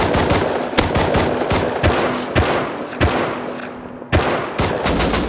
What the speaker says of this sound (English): AK just shot at me.